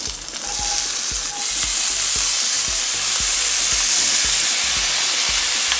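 Onion frying hard with chilli in hot oil, a loud, continuous hissing sizzle close up, with a steady run of spatula strokes scraping the pan at a fairly regular rhythm and no voices.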